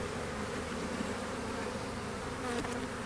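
Honeybees hum in a dense, steady drone from an opened hive during a spring inspection, the buzzing close and continuous for the whole stretch with no voices.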